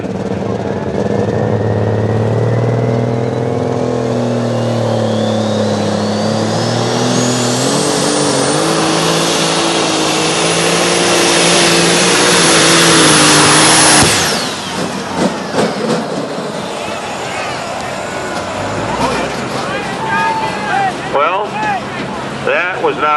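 Tractor pull engine revving hard as the puller launches down the track, a loud rising roar climbing in pitch for about fourteen seconds before cutting off, then lower idling engine noise and crowd or announcer voices.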